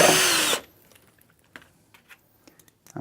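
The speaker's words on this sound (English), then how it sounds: "drill another hole here" A power drill bores into a cabinet panel in one loud burst for about half a second, then stops, followed by faint scattered taps and handling clicks in a quiet room.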